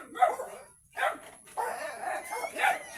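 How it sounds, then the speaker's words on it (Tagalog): A dog gives a few close, sharp barks separated by short pauses. "Wag ka ng tahol, wawa."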